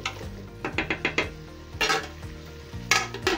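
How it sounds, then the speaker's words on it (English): A spoon stirring succotash with zucchini in a pot, giving a few scraping, clinking strokes in short bursts, close and fairly quiet with no talk. "Then lastly, you add your zucchini or courgette. And give it a stir."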